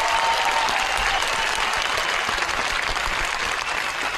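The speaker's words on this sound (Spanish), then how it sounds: "Así que un aplauso fuerte la Aroma." Studio audience on a talk show giving a strong round of applause, a loud, even burst of clapping that fills the whole stretch with no talk over it.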